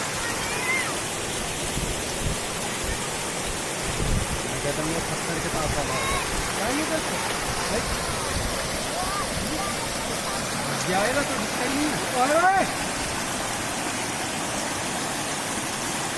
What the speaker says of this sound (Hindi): मंडला से बालाघाट के बीच बहने वाली बंजर नदी खतरे के निशान से ऊपर बह रही है